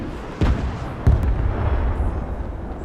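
Heavy artillery shells boom in a real-time military strategy battle, two sharp blasts near the start, each followed by a long, rumbling low roar under a steady din of distant combat.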